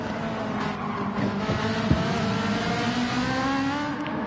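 A Ferrari race car engine in a sim racing game revs loud and steady with rising and falling pitch as it shifts through gears, with no voice over it.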